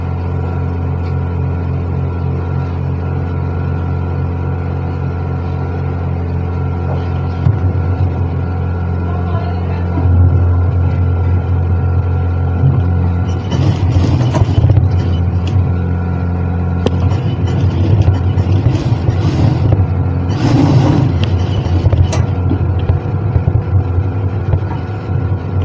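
A sewing machine motor hums steadily while run-stitching the double vent of a suit, a continuous close drone with louder bursts of rattling stitching partway through.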